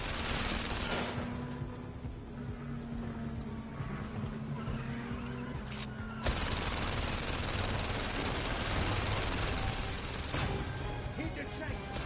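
Rapid bursts of gunfire from the London Heist shootout in PlayStation VR Worlds, dense and loud throughout, layered with game effects and engine-like rumble.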